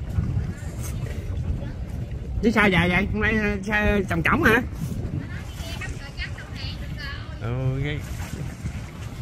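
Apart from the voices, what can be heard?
boat searching for a corpse motoring along the river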